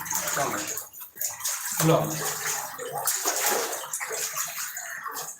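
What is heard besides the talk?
floodwater flowing and sloshing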